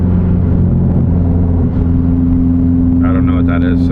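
A right-hand-drive JDM Nissan Silvia with a loud blast pipe exhaust holds a deep, steady idle rumble close by, with a brief rising engine note near the end.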